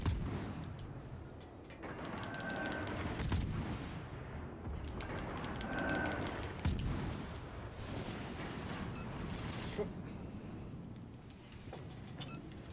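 Naval guns boom during a World of Warships Legends battle, heard as a few heavy, fairly faint thuds over a continuous low rumbling game soundscape.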